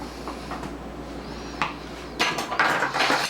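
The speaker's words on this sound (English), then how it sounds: "So I'm going to take a knife and I'm cutting the cake." A knife cutting through a cooled cake, faint scraping at first, then a few louder knocks and scrapes of the blade against a plate or board near the end.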